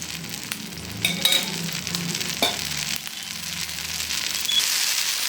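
Uttappam made from leftover dosa batter frying in a generous pool of oil on a pan, a soft continuous sizzle with small crackles and occasional scraping spikes, fairly quiet and close with no voices.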